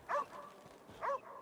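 Two short dog barks from a VR video game, about a second apart, clear and fairly close, with a quiet background between them.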